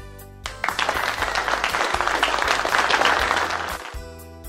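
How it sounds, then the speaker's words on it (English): Hands clap steadily and briskly for about three and a half seconds, a dense burst of claps that starts abruptly and fades near the end, with no voices over it. "Clap."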